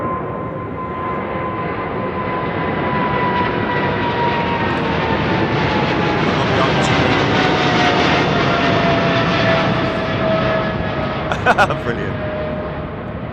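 British Airways Boeing 777-300 jet departing overhead from London Heathrow, a loud sustained engine roar with descending whine as the engines spool down, close and steady throughout, with a brief voice near the end.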